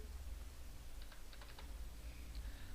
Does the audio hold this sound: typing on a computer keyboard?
yes